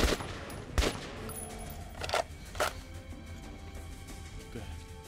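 Scattered gunshots from the Metro Redux video game, a few sharp loud reports spaced across the moments, with a steady low background drone between them and no talking.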